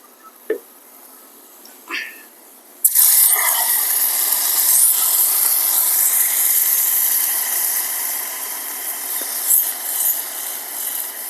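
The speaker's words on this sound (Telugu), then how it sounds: "ఇదే నెయ్యిలో" Water poured onto jaggery melting in hot ghee bursts into a loud, sustained sizzling hiss after a few faint clinks, staying strong and close until the end.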